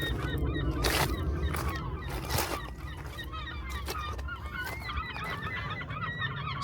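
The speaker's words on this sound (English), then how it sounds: "Seagulls are loving it." A crowd of seagulls calls and squawks continuously by a sea wall, with many overlapping cries over steady wind and wave noise.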